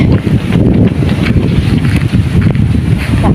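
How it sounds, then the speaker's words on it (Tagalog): Strong outdoor wind buffets the microphone under a eucalyptus tree in a hot subdivision, a loud continuous low roar with gusty swells and no break, and no talking. "Super windy."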